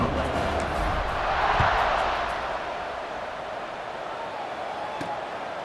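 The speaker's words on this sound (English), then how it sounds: "They're set to kick it off, and this crowd now ready to get behind them." A large stadium crowd roars at a kickoff in EA Sports College Football 26, a broad continuous wash of cheering that swells briefly and then eases off.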